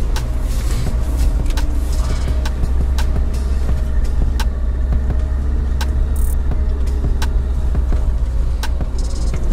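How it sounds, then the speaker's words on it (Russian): A Lada Niva with self-locking differentials drives on snow, its engine droning loudly and steadily with a deep rumble and no pauses, heard from close by. "По снегу быстренько прокатнемся, едем в сторону дачи."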